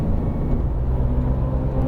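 Porsche 911 GT3 engine pulling steadily on light throttle through a long right-hand turn, a continuous low drone close up with no voices over it.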